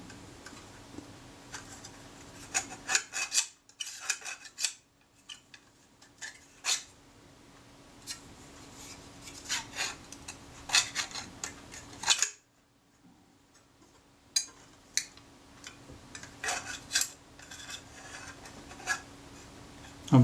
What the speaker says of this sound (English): I'm trying to see which surfaces are rubbing on each other and making all that awful noise.